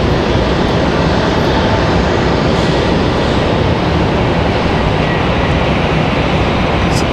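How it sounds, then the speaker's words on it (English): A Delta airliner rolls out after landing at Raleigh-Durham airport, a steady loud broadband roar of engines and air rush that holds at constant strength throughout. "So Delta's going to come off the runway right here."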